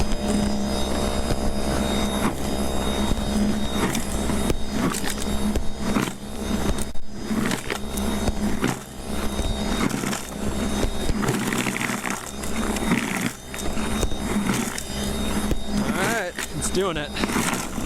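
An EGO Power+ SNT2102 electric snow blower grinds into driven-over, packed ice, a continuous close whirring motor drone with scraping strain, while someone talks over it much of the time.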